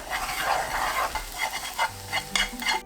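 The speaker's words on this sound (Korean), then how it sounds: "팬에 식용유 한 스푼 넣고 계란 부어서 몽글몽글하게 익힙니다" Beaten eggs cooking in a spoonful of cooking oil in a frying pan, a continuous close sizzle with repeated soft stirring scrapes every half second or so.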